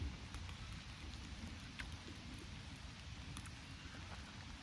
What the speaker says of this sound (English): it's been a steady downpour since I got here